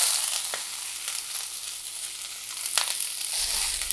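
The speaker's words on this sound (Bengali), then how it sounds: "এবার আমি ধনিয়া পাতাগুলো একটু ভেজে নিব।" Washed coriander leaves fry in a hot pan after fried onion, giving a steady bright sizzle with a couple of sharper spits and a stir near the end, close and alone.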